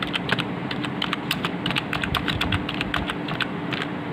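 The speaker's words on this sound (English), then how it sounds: "I am typing 2 lines" Steady typing on a computer keyboard, a brisk stream of close, crisp key clicks in an irregular rhythm, heard alone for a few seconds with no voices.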